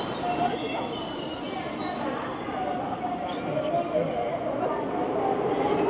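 A KTX high-speed train sits at a station platform in South Korea, giving a steady rumbling rail hum with a few faint high squeals and clanks, while people talk over the platform noise.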